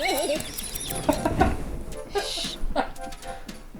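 A chick chirps in the Snipperclips game on Nintendo Switch, high warbling peeps and clucking game sounds mixed under lively talk and laughter from players.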